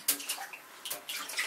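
Water splashing over a gameshow contestant's head, a brief run of close, wet sloshing bursts and drips with no talking.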